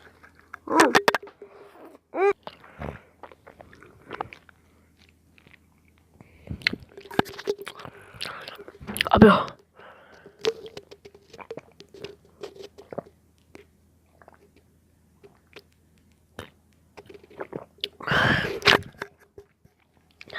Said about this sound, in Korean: 크게 먹어보겠습니다, 이번에